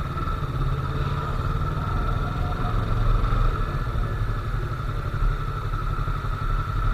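A Yamaha R3 parallel-twin motorcycle engine idles steadily nearby with an even, throbbing rumble and a light mechanical clatter, its cooling fan running.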